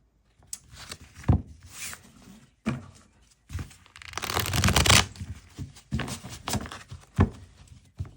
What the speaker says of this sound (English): Yes, easier to shuffle than the other edition.